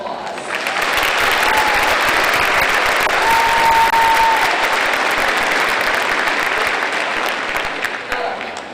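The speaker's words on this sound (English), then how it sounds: "Let's give them a quick round of applause." Sustained crowd applause fills a high school graduation ceremony in 2019, honoring the Varsity Voices after their national anthem performance; steady, dense clapping holds at full strength and tapers slightly near the end.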